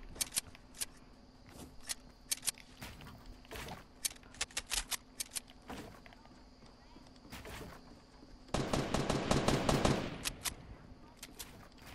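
Video game gunfire: sharp, distinct shots spaced irregularly, then a dense rapid burst of automatic fire toward the end, fairly quiet overall.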